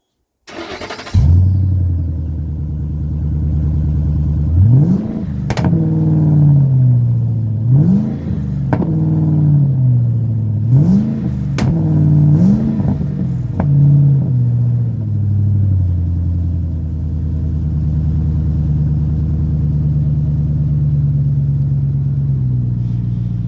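A Ford Super Duty truck engine with a blown-out, holed muffler revs up about five times in quick succession, each rev rising and falling, then settles into a loud, steady rumbling idle close by.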